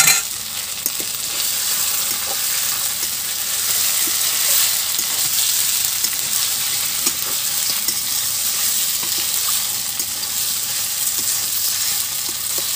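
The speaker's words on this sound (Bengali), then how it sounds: "আমি মাছগুলোকে এর মধ্যে দিয়ে দিলাম তেলের মশলার মধ্যে।" Fish pieces fry in hot oil with spices and green chillies for a Bengali papaya fish curry, giving a loud, steady, close sizzle that holds throughout without any talking.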